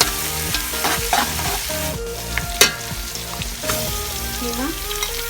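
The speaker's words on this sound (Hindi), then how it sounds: "डाल के इसको भूनेंगे जब तक कीमे का रंग बदल जाएगा तब तक।" Minced meat stir-fried in a pot with onion, garlic and green chillies, a continuous close sizzle broken by scraping stirs and one sharp clack, with soft background music and no voices.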